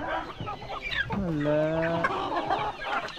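Chickens cluck close by on a mountain climb among fruit trees, a drawn-out squawking call standing out in the middle while people talk over and around it.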